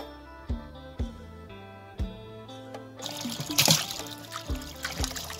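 Water trickles and splashes as wild yam (kloi) is washed by hand, with sharp knocks of the tubers against a container and a burst of sloshing pour near the end.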